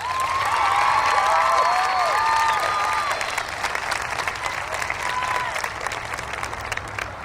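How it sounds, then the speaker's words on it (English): A commencement audience applauds the school staff, loud continuous clapping joined early by several whistles and a few cheers, then settling into steady clapping that thins slightly toward the end. "Please give the entire Brahma staff a round of applause"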